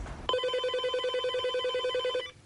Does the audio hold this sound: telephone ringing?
yes